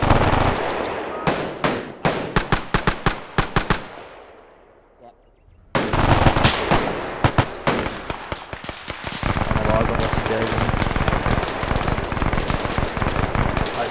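Rapid bursts of gunfire from an enemy half-track in a Market Garden war game ring out loud and close, a short lull in the middle before sustained automatic firing resumes.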